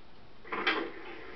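A short wooden clunk and creak of a door opening in the game Resident Evil 0, a single brief sound over quiet background.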